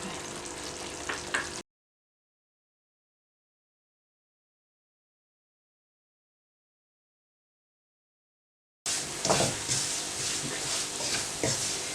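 Grated carrots frying with semolina in ghee, a close crackling sizzle with stirring scrapes, broken by a long stretch of total silence before the frying returns louder.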